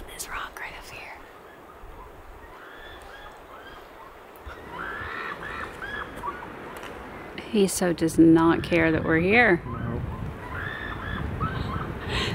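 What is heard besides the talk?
geese honking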